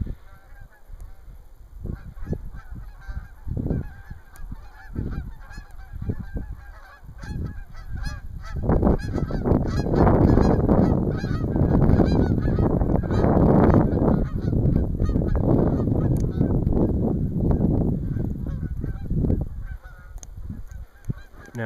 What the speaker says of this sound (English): Got some Canadian geese flying along,